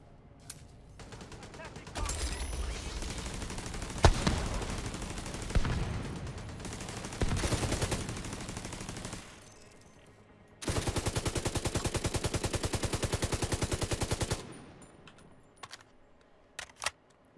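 A machine gun turret in the video game The Division 2 fires in scattered shots, then a long rapid burst that rattles loudly for several seconds before stopping.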